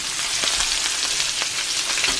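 Butter and garlic sizzle steadily in a cast iron pan for a ribeye dinner, a dense, even hiss with faint crackles and pops throughout, close and continuous with no talking.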